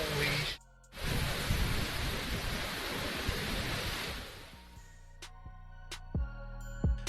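A storm brings a dense, loud roar of heavy rain and thunder that briefly cuts out, surges back, then fades into quieter rumbles and sharp crackles near a transformer.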